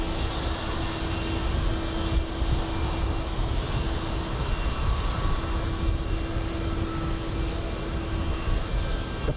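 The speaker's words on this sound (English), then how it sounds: "Your plane, our plane taking off." An airplane taking off at JFK produces a sustained loud engine roar with a steady tone running through it, continuous throughout with wind buffeting and no talk.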